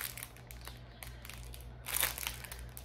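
Crinkly plastic packets of square diamond painting diamonds being unwrapped by hand, close, faint crackling and crumpling in irregular bursts with a louder rustle toward the end.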